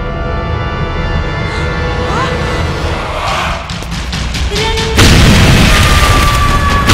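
A bomb explosion boom erupts in a Bhojpuri action film, landing as a sudden loud broadband blast near the five-second mark over an already dense, busy soundtrack and sustaining into a heavy rumble.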